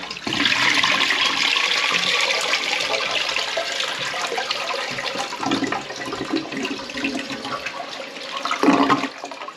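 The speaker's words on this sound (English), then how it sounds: "Looks like it flushed." A clogged household toilet is flushed during a clog repair. It gives a loud, rushing water swirl that slowly fades into gurgling and trickling refill sounds, heard close and with no talking over it.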